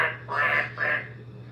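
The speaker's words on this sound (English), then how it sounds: "I don't know if you can hear the parrots outside." Green parrots squawk outside a window: two or three short, harsh calls, faint and somewhat distant over a low steady hum indoors.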